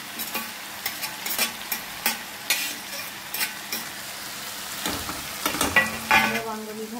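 Mashed roasted eggplant for bharit goes into a hot pan and is stirred, with soft sizzling and repeated scraping and thumping of the spoon at close range, no voices.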